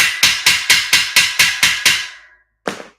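Eight sharp, evenly spaced hammer blows ring out on parts of a metal garage shelving unit during assembly, loud and close, then a brief pause and one final strike.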